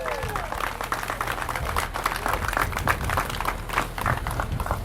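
Crowd applause for the Ocean City Fire Department at a live burn demonstration, a steady wash of clapping with scattered voices and outdoor background noise running throughout.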